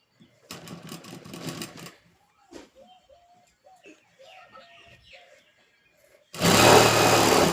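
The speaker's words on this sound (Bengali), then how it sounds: "নিচের অংশটুকু আমি সেলাই করে নেব এইভাবে এইভাবে সেলাই পুরোটাই সেলাই করে নেব" Sewing machine stitching the bottom hem of a child's frock, a loud close burst of rapid stitching at the start and again at the end, with faint bird cooing in the quieter stretch between.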